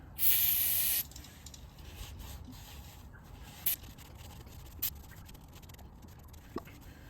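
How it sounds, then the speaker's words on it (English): Brake cleaner sprayed onto a front axle part of a 1967 Land Rover Series 2a makes one loud, sharp aerosol hiss lasting about a second, followed by quiet with a few faint clicks and taps. "I'm just going to give it a bit of a clean up, a bit of brake clean."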